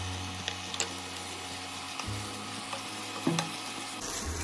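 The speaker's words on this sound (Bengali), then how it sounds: "ব্রাউন হওয়ার পরে এবার আমরা পেঁয়াজ পেস্ট দিয়ে দিলাম ওর উপরে। কিছুক্ষণ নাড়ার পর এবার আমরা আদা রসুন পেস্ট দিয়ে আর একটু নাড়িয়ে নেব।" Onion paste frying and being stirred in oil for a katla fish curry (kalia), a steady close sizzle with occasional scrapes and knocks of the spatula against the pan.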